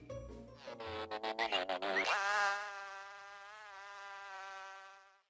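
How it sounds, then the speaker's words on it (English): A buzzing flying insect sound effect for the Disney dragonfly character Evinrude starts with rapid fluttering pulses, then settles into a sustained, wavering nasal drone that fades out. It plays alone with no talk. "Disney sound effects artist Jimmy McDonald, who provided sound effects for hundreds of Disney films, including Evinrude's distinctive buzz."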